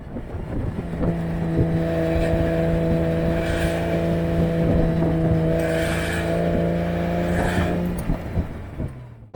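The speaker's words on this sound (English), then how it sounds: "It's got this nice little intake howl that comes in the mid-range from the air intake on the left side of the car." A 1997 Porsche Boxster with a 2.5-liter engine pulls through the mid-range, its left-side air intake adding a steady, rising howl over a loud, close engine drone.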